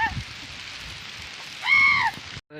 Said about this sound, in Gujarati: વરસાદ અત્યારે આવી ગયો છે